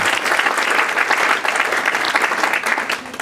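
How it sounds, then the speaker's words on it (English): An audience at a community medical camp gives a round of applause, steady dense clapping from many hands throughout, loud and close. "I think that is a nice round of applause"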